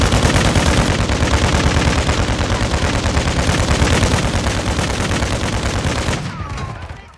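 Gunfire from Call of Duty Warzone 2.0 roars as loud, continuous automatic bursts that blur into a dense rattle for several seconds before cutting off near the end.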